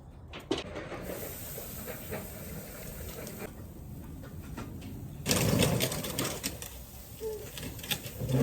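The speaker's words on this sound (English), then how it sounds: "We're going to take it out of the Gravity and put it directly over the coals." A tri-tip steak sears directly over hot charcoal after smoking in a Gravity-series grill. It gives a steady hiss and sizzle with scattered pops, swelling louder in the last few seconds.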